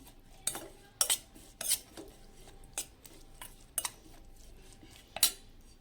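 Street-style Chinese bhel is tossed with tomato sauce and Schezwan chutney in a bowl, producing a series of sharp, close metallic clinks of a spoon against the dish, spaced irregularly over quiet background.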